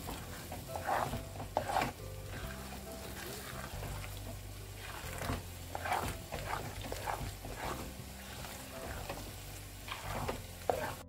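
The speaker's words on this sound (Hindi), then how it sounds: "अब मैं इसमें पालक का पेस्ट ऐड करूंगी और अभी हम इसे अच्छे से मिक्स करेंगे" Thick spinach paste stirred into fried onion-tomato masala in a pan, a steady frying sizzle under repeated scraping and stirring strokes, close and moderately loud, with brief voice sounds in places.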